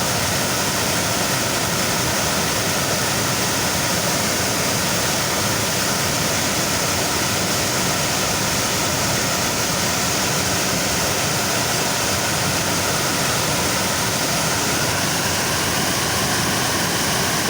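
Water pours steadily over a weir on the Wang River in Thailand, a loud, continuous broadband roar that holds unchanged throughout, with no voices.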